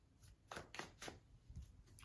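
A worn, slow-shuffling tarot deck riffles in soft, quick bursts, three clustered flicks then a couple more, quiet and close with no talking.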